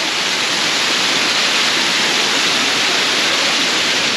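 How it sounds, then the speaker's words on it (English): A waterfall along the Annapurna Circuit trek pours steadily in a loud, continuous broadband roar with no breaks, heard close and alone for the whole stretch. "Waterfall! Wow. I love these waterfalls."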